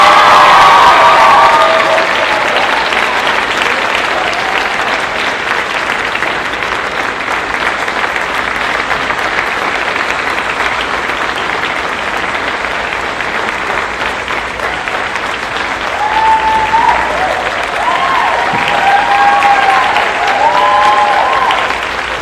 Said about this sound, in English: a big round of applause to our winner, Ed Kositzki.